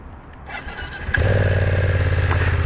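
A BMW F900XR motorcycle engine starting: a brief starter crank that catches into a loud, steady, throbbing idle held close by for the rest of the moment.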